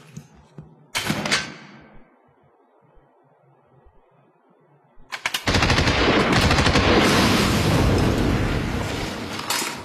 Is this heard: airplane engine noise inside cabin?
no